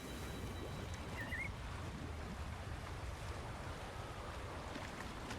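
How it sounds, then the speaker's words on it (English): A big waterfall roars in the Wuthering Waves video game as a steady, faint broadband rush of falling water with a wind-like hiss and no talk. "That's a really big waterfall."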